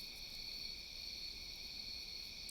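Crickets chirp in Maryland woods on a summer night, a steady high trilling chorus that hums on without pause at an even, moderate level, with no other sounds or voices in the background.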